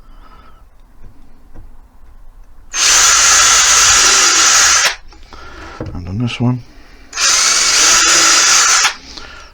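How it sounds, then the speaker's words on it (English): A power drill bores through wood while building a cottage coat rack with cubbies, with two loud, sustained high-pitched whirring bursts of about two seconds each, separated by a short gap with handling sounds and a brief spoken phrase. "So now we've started our drill, we can drill through."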